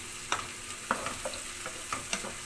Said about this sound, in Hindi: और उसको फ्राई कर रही हूँ।